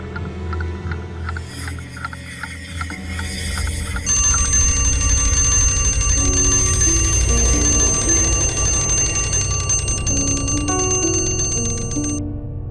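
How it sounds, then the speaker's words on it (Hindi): Alarm clock ringing at night, a loud, steady metallic bell ring that starts after a quieter lead-in and rings continuously for several seconds with no talk. "मैंने तो अलार्म लगाया ही नहीं था, फिर ये घड़ी कैसे बजी?"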